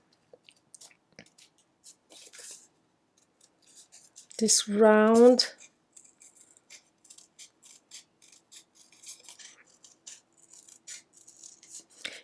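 Scissors snip through paper to make a mini Post-it book, a quiet series of short, crisp cuts in an otherwise quiet room, interrupted once by a brief spoken phrase.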